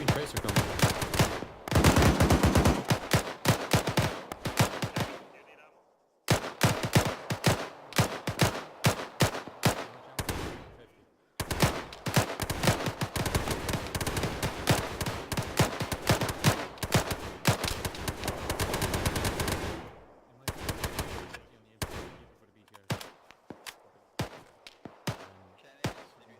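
Long machine-gun bursts with green tracers rip through a milsim video game battle, with dense rapid rattling volleys broken by short pauses and scattered single shots near the end, loud and close.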